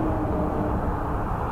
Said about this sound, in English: Sorry about the noise, guys. I'm right near a highway.